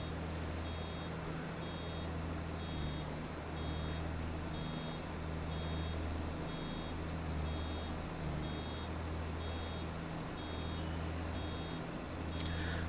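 A vehicle's reversing beeper in Farming Simulator 22 chirps steadily in a regular on-off pattern over a constant low engine drone, with no talk.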